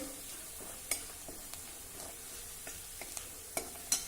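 Garlic and green chili sautéing in a pan for a simple vegetable dish, a soft steady sizzle with light stirring scrapes and a few sharp utensil clicks against the pan, fairly quiet and close.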